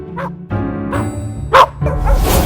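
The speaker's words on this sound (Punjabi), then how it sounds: "ਓਏ ਕੁੱਤੇ ਨੇ ਵੱਢ ਲਿਆ ਓਏ" A dog barks several times in quick succession, close and loud, with short sharp yips rising in intensity toward the end.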